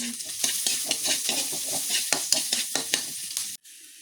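Onion, garlic and ginger sautéing in hot oil, a close crackling sizzle broken by steady rhythmic scrapes of a spatula stirring, stopping abruptly near the end.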